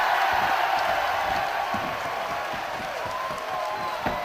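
A wrestling crowd at a tag-team match in Doncaster, UK roars and cheers, a broad sustained wall of voices with scattered whoops and claps, loud and continuous.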